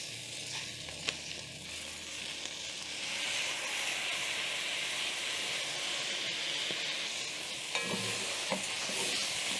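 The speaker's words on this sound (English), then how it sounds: "Stir in the rice and toast for around a minute over medium flame" Washed rice is stirred and toasted in a pot over a medium flame for mutton pilau, giving a steady sizzling hiss with occasional scraping of the spoon, close and continuous with no talking.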